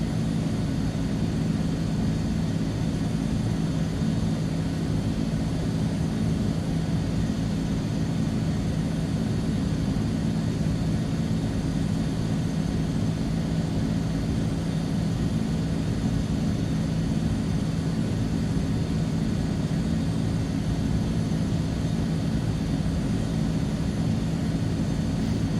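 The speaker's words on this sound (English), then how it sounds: "That was a steep takeoff." A Transall C-160R turboprop transport takes off in Microsoft Flight Simulator 2024, its engines a steady, loud, unbroken drone with a constant low hum that holds unchanged throughout.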